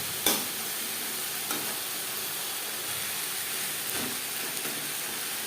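Drumstick leaves with grated coconut fry in a pan over a high flame, a soft continuous sizzle broken by a few scraping stirs of a spatula, close and without talk.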